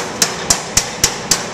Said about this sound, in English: I lightly pound it over to make sure that it's flat.